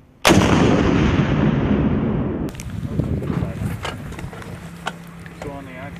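M3 Carl Gustaf 84mm recoilless rifle fires a single loud, close blast that rolls off over a couple of seconds, followed by quieter background noise with faint voices.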